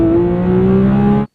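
A 2026 Porsche 911 GT3 of the 992.2 generation with a six-speed manual pulls hard, its engine note climbing steadily in pitch for just over a second at close range before cutting off abruptly.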